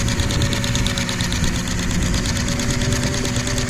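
Case steam tractor engine running at higher RPM on its governor, a loud, continuous rapid chuffing and mechanical knocking that holds steady throughout with no talk.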